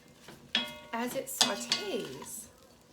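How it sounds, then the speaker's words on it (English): A flat-ended wooden spoon stirs food in melted butter in a pan for corned beef and cabbage, with soft scraping and clacking against the pan under a faint sizzle while a person talks. "the flat-ended wooden spoon, we're going to kind of move this around so that it's coated with butter"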